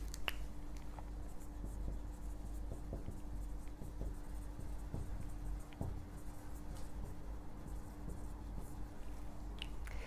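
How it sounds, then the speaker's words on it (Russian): A pen scratches across paper while notes are written and key words underlined, giving a steady stream of soft strokes and small taps close by over a faint constant hum, with no talking. "Делаем себе пометки, подчеркиваем ключевые слова"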